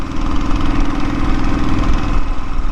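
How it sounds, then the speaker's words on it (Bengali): A black Royal Enfield motorcycle runs in the Nepal mountains, its engine giving a close, steady low thumping drone with an even pulsing rhythm throughout, no voices. "আমরা রয়্যাল ইনফিল্ডে এখন ঘুরতেছি নেপাল"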